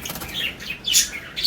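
Pet budgies, or lovebirds, flutter their wings in short rustling bursts close to the microphone, mixed with sharp high chirps and tweets, with no talking.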